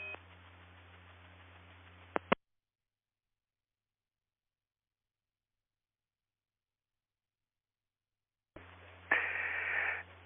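Tones and squelch from a 2-meter ham radio repeater, WR2AHL, with a burst of static, a sharp beep and a cut to silence, then another static burst with a tone at the end, faint and close.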